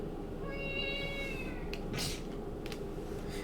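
A cat in the Zelda: Wind Waker video game gives a drawn-out, tonal meow, followed by a few short scratchy game sounds over quiet background noise.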